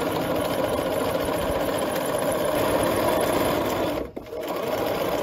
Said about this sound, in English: So just keep your seams lined up, and we're just going to sew 5/8 of an inch.